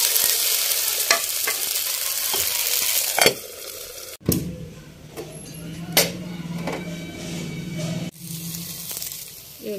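A chicken pizza paratha sizzles and fries in a pan in a village kitchen, with steady frying hiss, scraping stirs and a few sharp utensil knocks against the pan, while someone talks intermittently.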